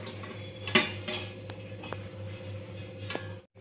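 A metal lid clanks onto a pot of water boiling beneath steaming modaks, giving one sharp clatter followed by lighter taps and scrapes of metal over a steady low hum.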